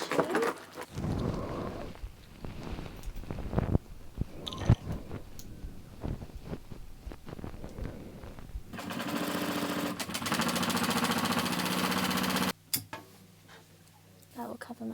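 Handling and fiddling noises give way to a sewing machine running steadily for a few seconds, close by, as it sews double piping for an armchair being reupholstered; a voice talks earlier.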